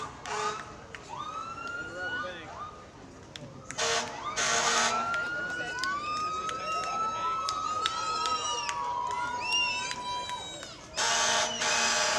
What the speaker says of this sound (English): Sheriff Mark Howie, accompanied by Wahkiakum officers with lights and sirens.